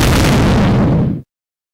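A loud, roaring explosion rumbles for about a second, then cuts off abruptly into silence.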